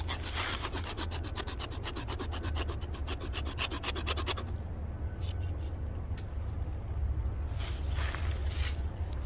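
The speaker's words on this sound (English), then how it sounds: "Let's do some spine scraping." A Buck 110 Sport knife's spine scrapes along soft wood in a fast, rhythmic run of rasping strokes, then slows to a few scattered scrapes, close and fairly quiet.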